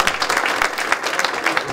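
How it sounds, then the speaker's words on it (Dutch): Warm applause for the volunteers at the festive reopening of De Leemhof community centre and library in Gendt, a brief, dense burst of many hands clapping evenly throughout. "Dat was een hartelijk applaus voor al die vrijwilligers."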